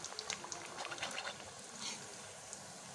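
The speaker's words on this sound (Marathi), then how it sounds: "आता आपण आपले सर्व चिरोटे छान तळून घेऊया." Chirote, a sweet made from wheat flour and jaggery, sizzles as it deep-fries in hot oil, producing a faint, steady crackle and bubbling with small pops scattered throughout.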